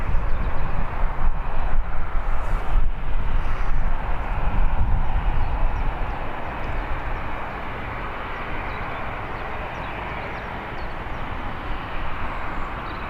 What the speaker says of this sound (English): Awesome aircraft. I hope the microphone did it justice as it was flying overhead.